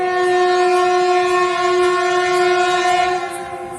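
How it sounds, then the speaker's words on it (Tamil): A freight train hauled by a red oxide diesel locomotive from the Erode shed passes close by, its horn holding one long, loud, steady blast over the rumble of the wagons. "ஒரு சரக்கு ரயில் வந்து கொண்டிருக்கிறது."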